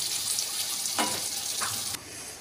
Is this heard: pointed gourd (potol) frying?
yes